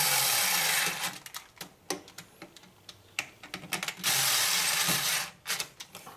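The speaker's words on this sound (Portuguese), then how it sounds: "bateria da parafusadeira já tá acabando" Cordless screwdriver driving screws while reassembling an Electrolux 6 kg washing machine, several short whirring and ratcheting bursts separated by pauses, close and fairly loud, with no talking.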